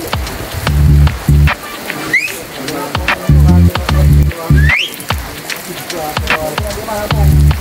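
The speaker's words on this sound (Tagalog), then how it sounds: "Malakas ang ulan doon sa bundok" Heavy rain pours down on a mountainside work site, a steady wash of downpour running through the whole stretch beneath a voice talking with loud low-pitched pulses.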